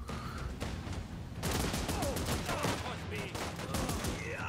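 Dense gunfire fills a battle in the video game Last Train Home: a quieter lead-in, then a sustained, loud fusillade of overlapping shots from about midway, with faint voices underneath.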